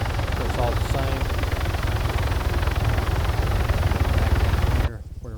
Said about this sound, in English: you see there's the helicopter still flying around